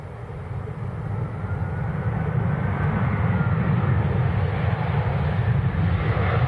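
An EasyJet airliner passes at Manchester Airport as a steady, deep low rumble that grows a little louder and then holds, with no voices.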